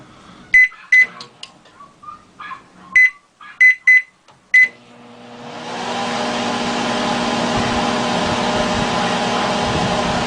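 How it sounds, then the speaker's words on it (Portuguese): Microwave oven under repair running with only the high-voltage transformer's primary connected and the secondary disconnected: a few short beeps and clicks, then a steady loud hum starts and continues. "Perceba que agora o forno funcionou normalmente só com o primário ligado."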